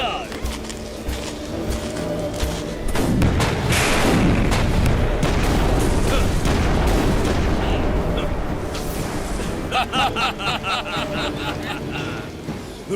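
Cartoon gunfire and artillery shots boom and crack loudly in a dense, sustained barrage during a kids' animated battle scene, with a rapid rattle of shots near the end.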